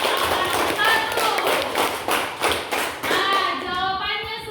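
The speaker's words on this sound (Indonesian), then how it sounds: "Kita berikan tepuk tangan." Applause in an elementary classroom, students clapping in quick uneven bursts that swell and fade, with children's voices chattering and calling over the claps.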